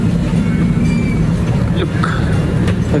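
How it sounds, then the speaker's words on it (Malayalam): Steady low rumble and hum inside an air-conditioned B1 coach of a train, with faint clinks and rattles over a constant broadband drone. "ട്രെയിൻ കയറി കേട്ടോ, ട്രെയിൻ കയറിയിട്ടുണ്ട്"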